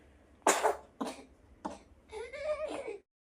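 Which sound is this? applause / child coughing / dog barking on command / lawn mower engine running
child coughing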